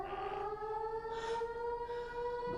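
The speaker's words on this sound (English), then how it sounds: "That's a war siren!" A civil defense air raid siren wails steadily and loudly, its rising and falling tone sustained throughout with no one talking.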